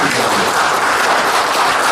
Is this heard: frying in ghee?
no